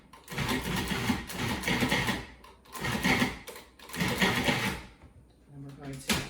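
A blender pulses an avocado mixture in bursts of loud whirring separated by short pauses, with a final short burst at the end.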